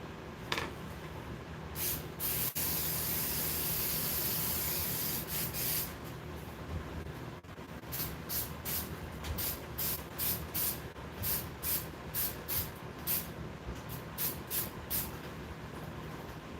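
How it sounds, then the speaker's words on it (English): Spray adhesive hissing from an aerosol can, starting with a long continuous blast and then a rapid series of short bursts, close and fairly loud with no speech. "I'm gonna hit both of these with spray adhesive."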